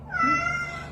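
A single clear cat meow, a sustained tonal call of about half a second, heard alone over a low steady hum.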